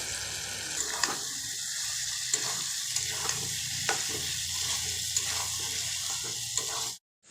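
Fried potatoes, spices and chopped chili stir-fry with meat and chana dal in a pan, a continuous sizzle broken by rhythmic scraping strokes of a spatula, ending abruptly.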